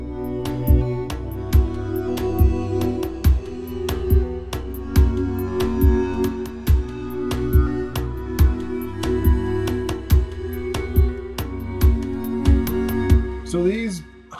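Sustained synthesizer pads hold warm chords over a steady, evenly spaced beat, with a brief wavering tone at the end.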